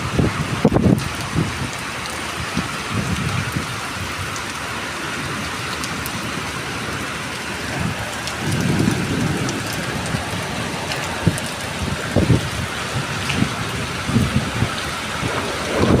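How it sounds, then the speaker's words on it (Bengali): Heavy Kalbaishakhi storm rain pours steadily onto surfaces, a dense, continuous hiss with scattered louder splashes and low rumbling swells, no voices over it. "প্রচণ্ড ঝড় বৃষ্টি,"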